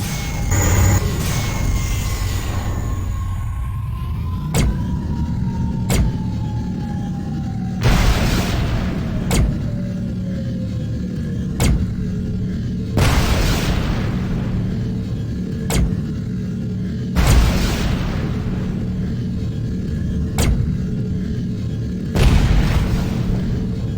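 Mines exploding in the space combat game Tachyon: The Fringe, with about six heavy booms spaced a few seconds apart over a steady low engine hum, each blast loud with a rumbling tail.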